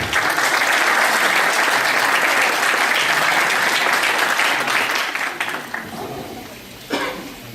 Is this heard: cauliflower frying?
no